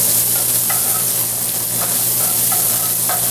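Shrimp browning in hot oil in a pan give off a loud, steady close-up sizzle, with faint scraping stirs breaking through now and then.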